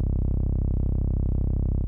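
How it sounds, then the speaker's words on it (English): Synth wavetable patch in bend plus minus warp mode, a steady buzzy low drone with a rapid pulsing flutter, held evenly for about two seconds, fairly quiet and with no voice. "And then I also enabled the bend plus minus warp mode, and that sounds more like this."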